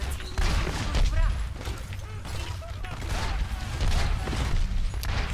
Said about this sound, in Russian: Чё-то все летает вокруг, взрывается.